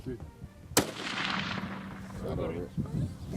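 A single loud, sharp gunshot cracks out near the start and trails into a long rumbling echo, with voices heard around it.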